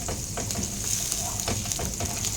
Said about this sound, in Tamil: ஒரு 50 கிராம் மட்டுக்கு பட்டர் போட்டுட்டு நல்லா பட்டரையும் நல்லா உருக்கி எடுத்துட்டு